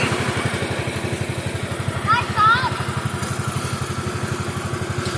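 A Bolens garden tractor engine chugs at a steady idle with even, rapid firing pulses while being unloaded after a tractor show; a voice briefly speaks over it.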